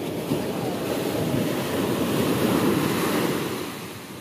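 Heavy ocean surf roars continuously, broad and loud, with wind buffeting the microphone throughout.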